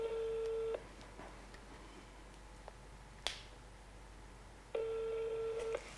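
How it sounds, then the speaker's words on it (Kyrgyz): A telephone call rings out in two long electronic ring tones, one at the start and one near the end, separated by quiet line hiss with a sharp click in between. "курсташ доско чалып жатабыз азыр."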